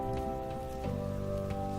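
Steady rain in the video game Night in the Woods patters over a constant hum with tonal music lines, a soft continuous wash with occasional louder drops, no talking.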